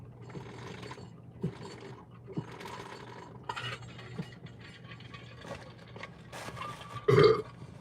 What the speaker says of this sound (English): I just like burped